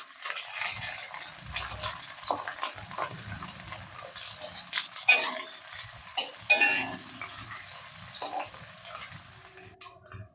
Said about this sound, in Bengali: পেঁয়াজগুলো আমি এরকমভাবে ভেজে নিয়েছি, এই যে নরম নরম হয়ে গেছে।